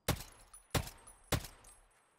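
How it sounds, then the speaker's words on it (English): Gunfire from a video game while shooting rogues: three sharp, loud gunshots spaced about half a second apart, each trailing off in a short echoing decay. "Just shoot them"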